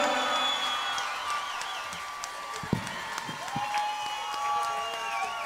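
An audience at a live performance applauds the performer as he sits down, moved to tears, a soft sustained patter of clapping from a crowd at some distance, with faint tonal sounds drifting over it.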